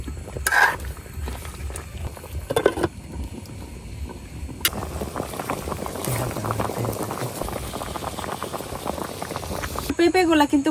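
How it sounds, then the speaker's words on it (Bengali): Fresh papayas, just picked from the tree, boil in a covered pot with a continuous bubbling, churning rumble and a few clinks. A voice talks over it at times. "ডাইকা পেঁপেগুলো সিদ্ধ করে নিলাম"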